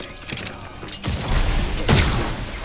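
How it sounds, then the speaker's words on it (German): Gunfire in Redfall, a few heavy thumping shots and booms in quick succession, loud and close, building toward a final burst, with no talking. "Einfach draufschießen auf den Kopf."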